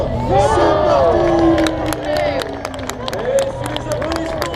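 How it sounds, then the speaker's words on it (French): At the start of the 2015 Paris-Roubaix cycling race, a roadside crowd cheers and shouts loudly, with scattered claps and sharp bursts over a busy hubbub of voices, everything close and continuous. "Et sous les applaudissements, c'est parti pour le 113e Paris-Roubaix."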